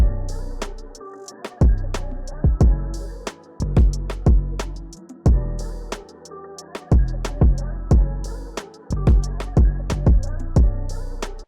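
The full soulful beat loops steadily and loud, with punchy drums, a simple hi-hat pattern keeping time, and warm sustained chords underneath, with no voices.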